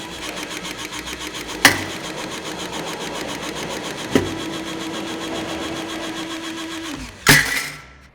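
A TrueShear shear cutting 20 gauge steel angle runs with a steady mechanical whir, broken by three sharp snapping cuts at intervals, the last trailing off as the tool stops.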